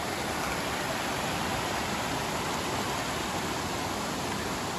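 Palmer Creek, a small mountain stream in the Great Smoky Mountains, rushes steadily beneath a footbridge, a continuous broadband wash of flowing water with no pauses, close and moderately loud.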